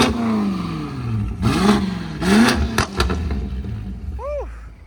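A BMW X6M fitted with a cheap Alibaba aftermarket exhaust revs hard in several loud, sharp blips with crackling pops between them, heard up close outdoors, followed by a few quick chirping squeaks at the end.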